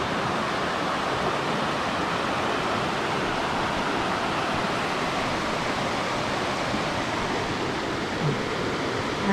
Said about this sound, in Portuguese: Cachoeira do Vergueiro, que na realidade são corredeiras.